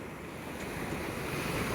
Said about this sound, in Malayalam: റോഡ് സൈഡിലേക്ക് കയറി വന്നിട്ടുണ്ട് കടലിപ്പോൾ.